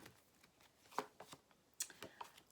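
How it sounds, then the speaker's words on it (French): Tarot cards being handled and laid down during a reading, soft close papery snaps and slides in a sparse irregular sequence, quiet and with no talk. "je vais quand même mettre une carte sur la femme âgée"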